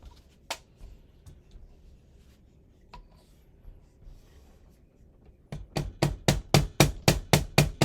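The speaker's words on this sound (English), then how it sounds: "This is my non-marking hammer." A non-marking hammer taps on custom rifle furniture for a Micro Draco VSKA, a few scattered knocks giving way to a loud, steady run of about nine close, sharp strikes.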